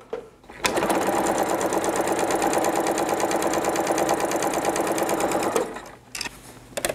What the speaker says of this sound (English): I'm back using my HP foot and plate again, and I'm going to stitch on that line.